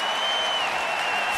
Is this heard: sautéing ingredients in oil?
no